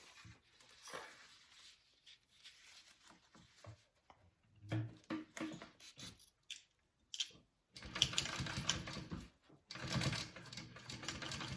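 A sewing machine top stitches fabric for a game bag in quiet bursts of rapid mechanical ticking, broken by short pauses, with handling noise in between.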